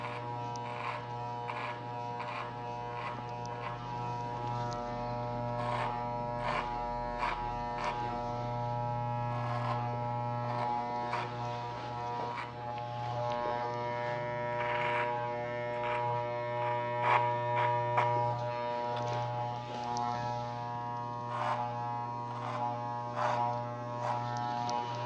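Electric hair clipper with a comb guard cutting hair during a short social-style men's haircut, a steady close buzzing hum that continues throughout with small bursts and clicks as it passes through hair.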